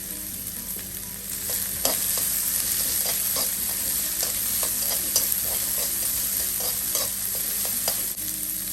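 Vegetables, including beans and small capsicum, stir-frying in a hot pan for veg fried rice, with a steady sizzle under regular scraping and tossing strokes of a spatula, close and continuous with no talk.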